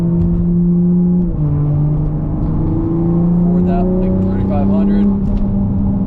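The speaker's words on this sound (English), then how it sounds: "As you can tell from those burbles, this thing sounds amazing." A Toyota Supra driven in sport mode holds about 3,000 RPM, its exhaust giving a steady, loud, low drone with a brief dip in pitch, heard from inside the car.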